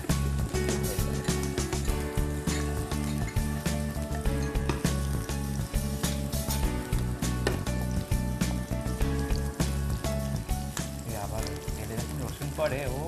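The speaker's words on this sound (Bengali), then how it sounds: "তেলটা গরম হয়ে গেছে, এবার এর মধ্যে আমরা দেবো গার্লিক ফ্লেক্স" Garlic flakes, cut from large garlic cloves, sizzle steadily in hot oil in a restaurant kitchen, a continuous bright frying hiss running under loud background music for the whole stretch.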